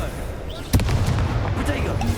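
A Confringo fire spell bursts with a sharp explosive crack in the Hogwarts Legacy video game, followed by a rumbling, crackling tail while battle noise and voices continue underneath.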